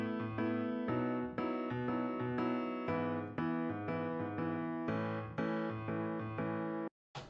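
A background piano part playing repeated sustained chords in a steady rhythm, warm and full with rich low notes, heard alone and cutting off abruptly near the end.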